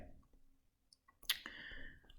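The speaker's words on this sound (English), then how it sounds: "I'm just clicking and answering" A single faint computer mouse click comes in a quiet room, with a soft tick or two around it.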